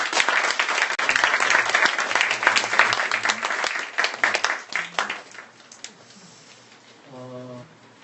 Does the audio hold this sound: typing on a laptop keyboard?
no